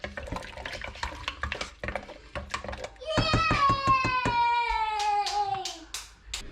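A spoon stirs seafood chowder in a metal pot, scraping and clinking through thick liquid; partway through, a ringing metallic tone joins the repeated scrapes, and the sound stays close and moderately loud.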